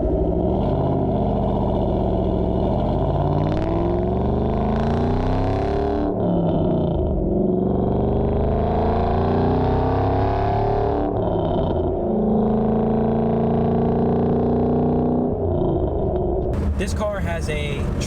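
A supercharged Ford GT500 muscle car engine with a Trinity blower swap, about 726 horsepower, drones and revs repeatedly, rising and falling in pitch, loud and close, with a person talking over it at times.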